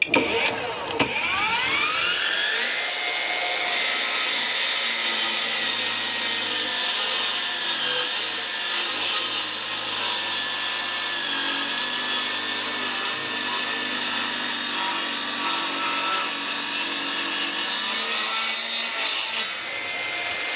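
A ProCraft PGS 28 cordless mitre saw cuts through wood in one long, steady pass of nearly twenty seconds, its motor whine and blade rasp loud and close, then spins down at the end.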